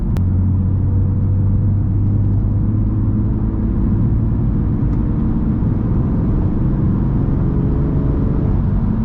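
A BMW M3, once flood-damaged, is floored in sixth gear from about 1,500 RPM, its engine a deep, loud, steady drone that builds slowly and evenly throughout with road rumble underneath.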